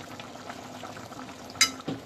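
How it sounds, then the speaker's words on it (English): Gentle sizzling and bubbling from burro plantains frying in a pan, steady and close, with a sharper spatter and a soft clink near the end. "The plantains are frying."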